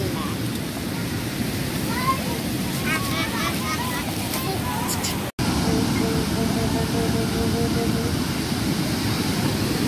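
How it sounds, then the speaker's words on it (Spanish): Strong, rough ocean surf at Champerico beach, a steady loud wash of breaking waves with wind buffeting the microphone, a brief dropout midway, and faint voices and birdlike chirps over it. "Está muy fuerte las olas."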